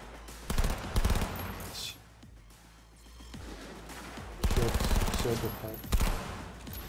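Loud gunfire in a Cyberpunk fight comes in repeated rapid bursts separated by a brief lull, with a man cursing briefly between volleys.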